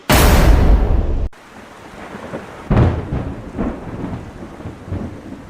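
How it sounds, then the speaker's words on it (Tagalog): Thunder cracks loudly and up close at the start of a thunderstorm, then gives way to steady rain with further rolling rumbles. "It's raining!"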